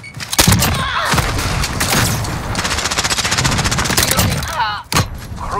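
Rapid automatic gunfire fills a Call of Duty Modern Warfare hardcore team deathmatch, with heavy booming blasts from a grenade explosion near the start and again near the end, all loud and close.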